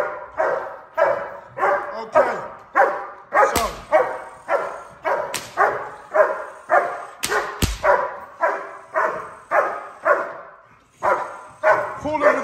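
A police K9 dog barks loudly and rhythmically during bite training, about twenty sharp barks at a steady pace, close to the microphone, while someone speaks briefly.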